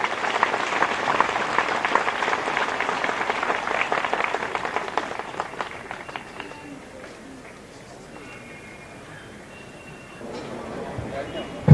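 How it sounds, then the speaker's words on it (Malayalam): Audience applause fills the hall at the consecration of the Ranni Bishop's House, a steady dense clatter of many hands that gradually thins and fades halfway through, leaving quieter room sound. "എല്ലാവരും നല്ല ഒരു ക്ലാപ്പ് കൊടുത്ത് സന്തോഷത്തോടുകൂടെ ആ വിവരം അറിയിക്കും."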